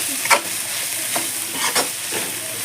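Cabbage frying in a pan as garam masala and coriander powder are stirred in, a loud continuous sizzle with soft scraping strokes of a spatula at irregular intervals.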